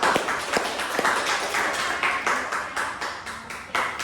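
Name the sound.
clapping for everyone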